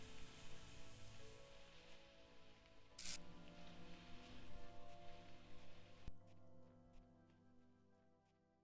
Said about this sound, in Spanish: Lloviendo con ventolera